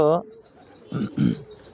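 A racing homer pigeon in a loft gives two low, throaty coos close by, following a brief burst of a person talking.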